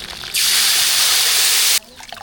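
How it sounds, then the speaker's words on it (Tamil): Tamarind water poured into a hot mustard-seed tempering for rasam, giving a loud, sudden sizzling hiss that holds steady for about a second and a half, then cuts off. "தாளிப்பு ரெடி ஆகிட்டு புளி தண்ணியை சேர்த்துக்கலாம்"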